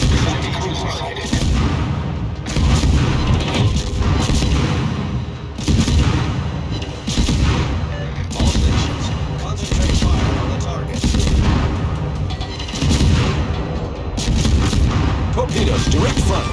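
Naval artillery in World of Warships fires in repeated heavy booming salvos that roll and rumble, with loud bursts recurring every few seconds and voice callouts mixed in.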